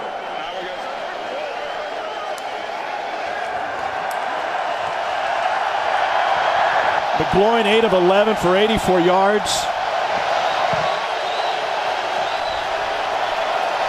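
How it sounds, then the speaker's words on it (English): A large stadium crowd at an XFL pro football game in St. Louis roars in a steady, distant wash, swelling slightly midway while a commentator talks over it. "And this crowd responding to the return to pro football here in St. Louis."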